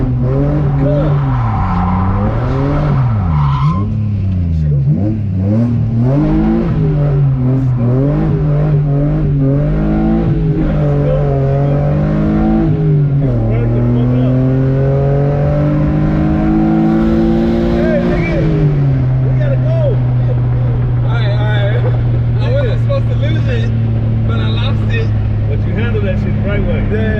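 A car drifting and spinning out on a ramp, its engine revving hard and rising and falling in pitch under a steady drone, heard close and loud throughout, with a few voices briefly audible.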